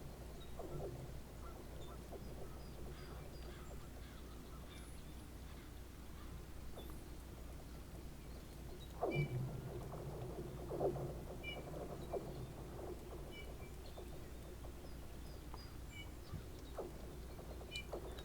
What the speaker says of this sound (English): I definitely hear a few sound effects of like birds and whatnot going on